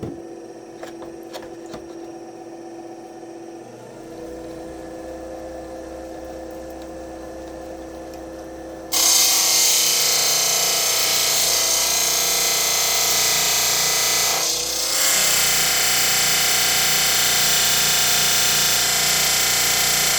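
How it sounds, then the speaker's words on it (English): A power tool grinds basanite stone: a steady tonal motor whine with some low rattling, then from midway a much louder gritty, hissing grind that carries on evenly to the end, close and with no talking. "Now I have to grind a little bit more on this side."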